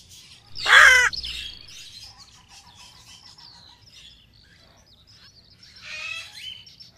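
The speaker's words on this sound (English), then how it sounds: "Beautiful birds." Birds calling close by: a loud harsh squawk, then a scatter of quieter chirps and tweets, and a second burst of chattering calls near the end, with no talking.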